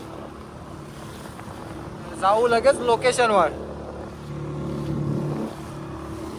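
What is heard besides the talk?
fishing boat engine running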